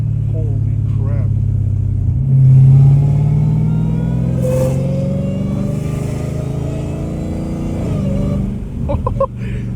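A catless, straight-piped Dodge Challenger Hellcat Redeye in sports mode, its supercharger whine climbing steadily over a loud, rumbling exhaust heard from inside the car, with a brief louder surge early on.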